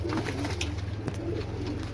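Red-eyed teddy pigeons cooing in a low, steady murmur close by, over a constant background hum, with no talking.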